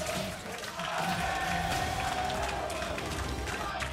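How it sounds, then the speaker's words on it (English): A live esports crowd in a Berlin arena at the League of Legends Worlds 2019 play-in stage roars and cheers in a dense, sustained wash of noise that swells slightly after the first second. "The crowd in Berlin is alive with the name of Flamengo Esports."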